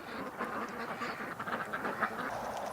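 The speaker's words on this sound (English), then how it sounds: "All the ducks got freaked out and come back" Ducks quack in a dense, continuous chorus on a lake, many birds calling at once at moderate distance.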